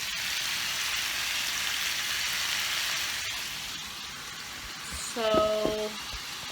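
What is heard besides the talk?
food sizzling in a pan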